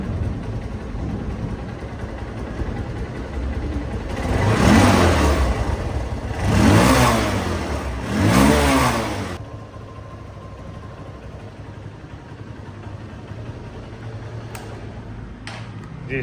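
A second-hand Honda CB Trigger motorcycle engine idles, then revs three times in quick swells before settling back to a steady, close idle.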